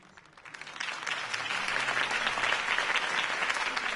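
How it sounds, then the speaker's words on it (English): Crowd applause swells after a campaign speech in a Batman video game, steady dense clapping that builds within the first second and holds loud and even throughout. "If only Mr. Wayne, my campaign's largest backer, could have heard that applause"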